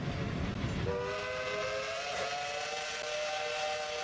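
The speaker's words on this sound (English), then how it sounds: "As you can tell, that whistle sounds very nice." A steam locomotive leaving Cass, West Virginia sounds a long, steady multi-tone whistle at a moderate distance, held for several seconds over the rumble of the train, with no voices.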